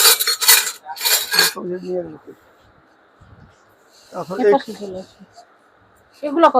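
Stainless steel serving spoons are handled in a shop, with bright metallic clinks and rattles in short bursts while people talk between them.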